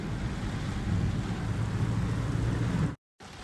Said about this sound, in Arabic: صواعق قوية